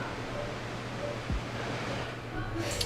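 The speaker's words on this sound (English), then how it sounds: "And then the other waterfall's right here." A waterfall in Farming Simulator 22 pours as a constant, dense hiss of falling water, even and unbroken, with a faint passing tone through the steady rush.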